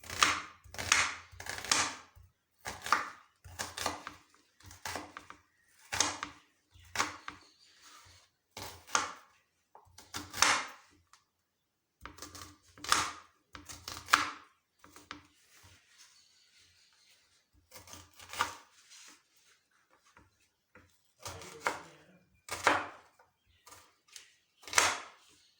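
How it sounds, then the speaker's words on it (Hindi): Onions being chopped with a knife on a cutting board, for a vegetable pulao: a long run of sharp, fairly loud chops in quick bursts with brief pauses between groups. "प्याज को हम काट लेते हैं।"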